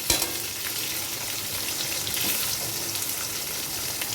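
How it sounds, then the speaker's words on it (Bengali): Potatoes stirred and frying in a kadai, a steady loud sizzle with the scrape of a spatula moving through them, close and uninterrupted, no voices. "প্রথমে একটু আলুগুলোকে নেড়ে নেবেন কড়ার মধ্যে"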